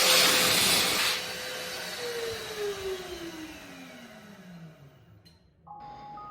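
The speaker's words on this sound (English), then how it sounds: "the Velo Pebbles really stood out to me as being unique dryers, as they looked stunning and made the coolest sounds I'd ever heard from a hand dryer" A Velo Pebble hand dryer blows with a loud airy rush that cuts back after about a second, leaving a steady whir as a falling motor whine glides downward over several seconds, then a brief sharp tonal change near the end.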